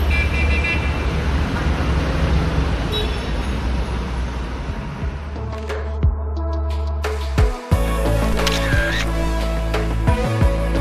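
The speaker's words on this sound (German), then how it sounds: "Hupen ist total wichtig." Busy street traffic in Alexandria, Egypt rumbles steadily, with car horns tooting briefly now and then amid engine noise and passing vehicles.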